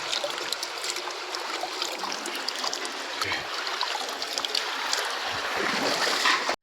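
Water from a borewell gushes and splashes steadily, a continuous rushing flow close by that grows slightly louder toward the end.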